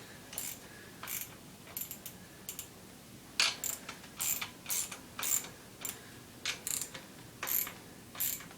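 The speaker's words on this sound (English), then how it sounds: "We're still going lefty-loosey, righty-tighty, but I just switched my ratchet over." Ratchet wrench tightening the wheel nuts on a unicycle, a series of close, sharp clicking bursts repeating in an even rhythm over a quiet background.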